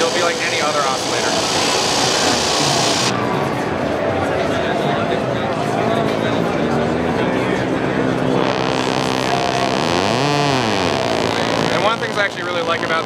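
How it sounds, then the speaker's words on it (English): A Noise Engineering Manis Iteritas synth module, demonstrated at the NAMM 2018 trade show, runs as a free-running oscillator. It makes a loud, steady, buzzy drone that plays without a break, with sweeping pitch bends near the end. "if you turn it all the way clockwise, it becomes a free-running oscillator, so then you can send pitch to it"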